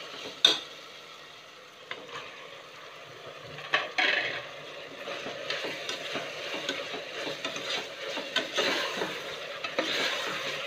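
Chopped tomatoes go into a hot pan of ginger-garlic masala for mutton biryani and are stirred, with a steady close sizzle broken by scraping and clattering stirs at a moderate level.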